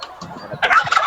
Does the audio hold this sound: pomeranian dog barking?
no